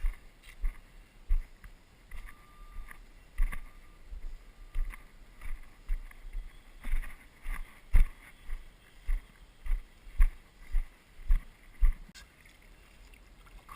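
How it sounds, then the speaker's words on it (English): Kayak paddles dip and splash in rhythmic strokes on a lake near Willow Beach heading toward Queho Cave, close regular swishes about once a second with light wind on the microphone. "Right now we're paddling to Queho"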